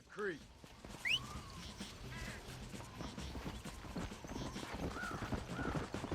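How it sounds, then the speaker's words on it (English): Horse hooves clip-clop in the Red Dead Redemption video game, with whinny-like calls near the start, all heard over a steady bed of game ambience and talk. "Is that our horse?"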